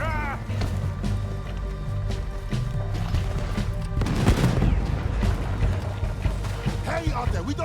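Gunfire and cannon shots from a Red Dead Redemption 2 battle mission crack and boom in irregular bursts, with one heavier blast midway, over a busy game soundscape with voices speaking.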